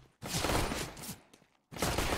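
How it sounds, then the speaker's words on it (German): Two bursts of rapid burst-mode gunfire in Counter-Strike: Global Offensive crackle in quick succession, separated by a brief silence, with a short clattering shot sequence in between. "Burst angemacht, ich hab's gehört."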